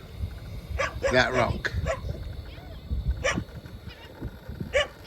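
A dog barks several times in the background, irregular and a bit distant, while someone talks over a low rumbling RC crawler motor.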